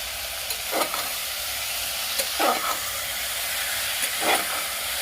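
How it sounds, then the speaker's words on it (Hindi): Spice paste for a basmati rice and moong dal khichdi sizzles steadily while roasting in a pan, a constant frying hiss broken by a few louder bursts as it is stirred, close and clear with no voices. "इसे लगभग 5 मिनट भूनूंगी, तब उस मसाले को मिलाऊंगी।"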